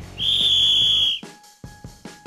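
Referee's whistle in a football game, one long sharp shrill blast lasting about a second, followed by a few soft dull thuds and a faint low electronic tone.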